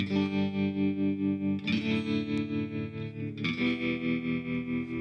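Sustained electric guitar chords pulse with a steady, rolling tremolo from a tremolo pedal, the volume swelling and dipping rhythmically; two chord changes, no talking.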